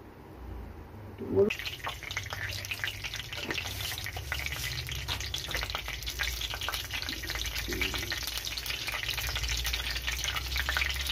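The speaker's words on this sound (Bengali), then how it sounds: "কড়াইতে তেল দিয়ে ডুমুর আলু ছোলাকে ভালোভাবে ভেজে নেওয়া হলো" Figs, potatoes and chickpeas fry in oil in a wok with a continuous soft sizzle after a brief clatter at the start, fairly quiet and with no voices.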